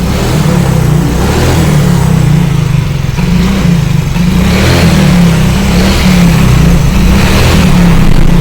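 A Yamaha Mio GT scooter engine, being checked for a no-start fault after a new air filter box was fitted, runs loud and close with a steady low drone and mild revving swells.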